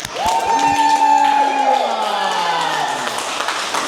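A team is welcomed with a round of applause at a gathering, with crowd clapping, cheering and whoops carrying on steadily under overlapping voices.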